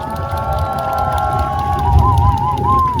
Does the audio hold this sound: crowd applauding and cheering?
yes